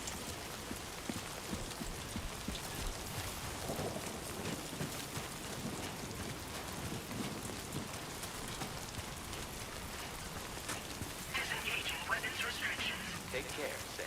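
Timefall rain in Death Stranding 2 falls as a steady, close hiss of rain spattering on surfaces throughout, with a brief brighter patter near the end and faint voices murmuring underneath.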